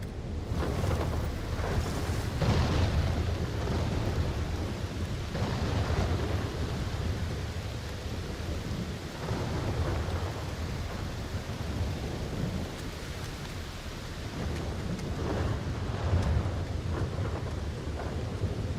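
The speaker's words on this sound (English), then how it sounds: "Yeah, that was a lightning storm." Thunder from a lightning storm in the game Aloft rolls in long, deep rumbling swells over steady rain-like noise, loud and continuous for nearly twenty seconds with no talking.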